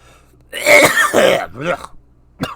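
A loud, harsh cough with throat clearing, close by, followed by a shorter second cough after a pause.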